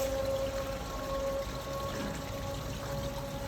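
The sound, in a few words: water draining from upper sluice into lower sluice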